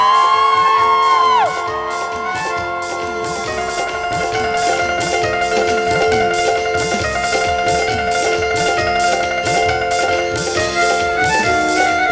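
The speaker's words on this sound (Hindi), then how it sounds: "जोर से तालियों के साथ करिए" A church congregation claps loudly in steady rhythm during Hindi morning worship, the claps running under singing and music throughout.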